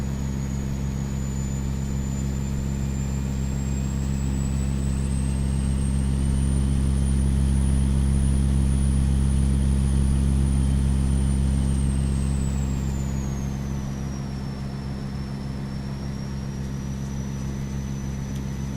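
A heavy diesel truck engine in American Truck Simulator drones steadily at low, deep pitch with a strong rumble, rising slightly in revs mid-way, then easing, continuous and close throughout with no talk.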